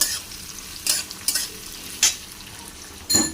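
Onions frying lightly in a pan while being stirred, a soft low sizzle broken by several sharp scraping strokes of a spoon against the metal.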